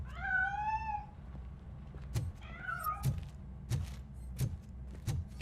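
A cat in RoboCop: Rogue City meows twice, hidden inside a piano, each a drawn-out wavering cry, followed by a series of soft, evenly spaced thumps and knocks, with no talking.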